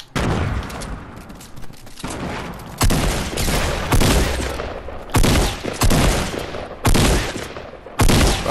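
Rapid video-game gunfire crackles in dense, loud bursts of fusillade, several volleys broken by brief gaps over the whole stretch, with no talk.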